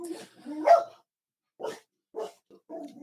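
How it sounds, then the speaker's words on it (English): A dog gives a few short barks and yips, close by, in separate bursts with brief silent gaps between them. "dog says bye"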